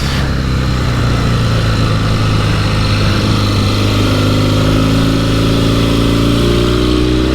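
A Norton 650SS motorcycle engine runs loud and close, a steady throbbing idle that rises slightly in pitch toward the end, with no voices over it.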